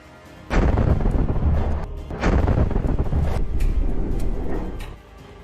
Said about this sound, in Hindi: जैसे ही ये टैंक बारूद वाली जगह पर आते हैं वैसे ही वहां पर एक जोरदार ब्लास्ट होता है।